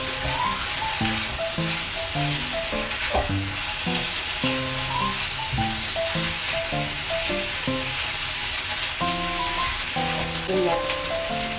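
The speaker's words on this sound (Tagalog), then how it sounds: "Gigisa natin ito. Ayan, kapag medyo nag-brown na yung bawang at yung luya, pwede nang ihalo." Garlic and ginger sizzling and frying in a pan for lemon ginger chicken adobo, a steady close crackle running continuously under background music.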